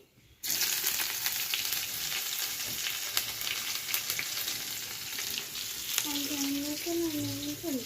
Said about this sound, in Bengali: সেই কড়াইতেই তেল আর শুকনো লঙ্কা ফোড়ন দিয়ে দিয়েছি এবার দিয়ে দেবো পেঁয়াজ কুচি